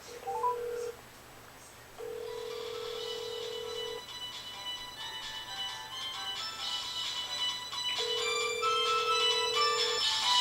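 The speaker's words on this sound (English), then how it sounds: "Hopefully you can hear the one in the microwave ringing" Mobile phone shut inside a closed microwave oven, ringing with long steady tones in repeated bursts, muffled but clear, over a brighter phone-speaker ringback and tone sequence from a second handset nearby.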